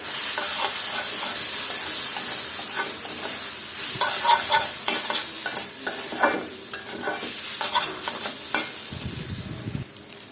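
Spicy noodles with lemon and packet masala are stirred in a pan, giving a continuous sizzling hiss with repeated scraping and tapping of the utensil, a low thump near the end.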